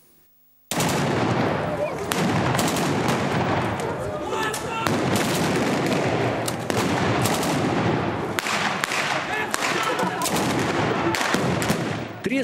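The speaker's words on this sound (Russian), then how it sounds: "Треск автоматов, грохот ружейных выстрелов" Rapid bursts of automatic gunfire mixed with single rifle shots, loud and close, crackling almost continuously with irregular sharp cracks throughout.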